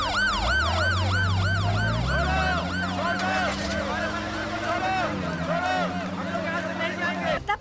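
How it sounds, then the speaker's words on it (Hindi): A politician's vehicle in a South Indian Hindi-dubbed action movie blares a wailing emergency siren, loud and close with rapid rising-falling sweeps, under a low engine rumble and a voice speaking over it. "ये वाला सायरन कह रहा था क्या?"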